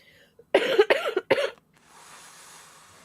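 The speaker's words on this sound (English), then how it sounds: "Oh, she's coughing." A woman coughs three times in quick, loud bursts close by, followed by a soft breathy hiss.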